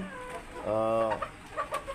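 Young chickens on a poultry farm give a short, close cluck and a few soft chirps, heard alone in a quiet pen.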